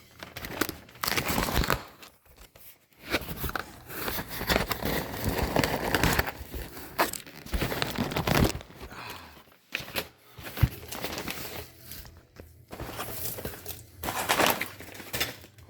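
Wrapping on a shipped package holding an eBay monitor chassis being cut and torn open; continuous close crinkling, ripping and scraping in uneven bursts with short pauses, no voices.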